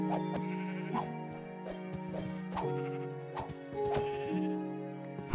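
Sheep bleating in Minecraft, a run of several short, nasal bleats that repeat in a steady rhythm, mid-level and alone with no talk.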